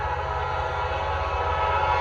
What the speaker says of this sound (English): I heard this train slow all the way down from Thickety Creek all the way down to Gaffney.